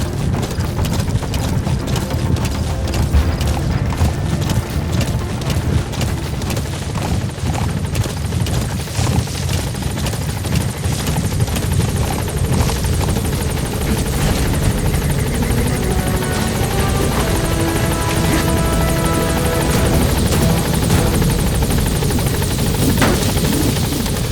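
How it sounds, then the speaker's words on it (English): A support helicopter arrives in the video game Metal Gear Solid V: The Phantom Pain, its rotor thumping steadily and loudly throughout, a continuous chopping drone with no voices. "Support helicopter has arrived."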